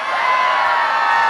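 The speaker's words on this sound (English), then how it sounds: "Can you all cheer for me after?" A large outdoor crowd at a supercar show cheers loudly and continuously, a dense wall of voices and whoops sustained throughout.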